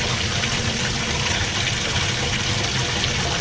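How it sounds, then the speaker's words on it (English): Hot water pours steadily into a clogged air-conditioner drain pipe in a basement, a loud, continuous gushing rush with no pauses and no voices. "Let that water get real hot."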